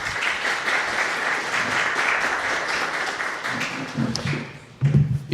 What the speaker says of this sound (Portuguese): Quero que recebamos com palmas.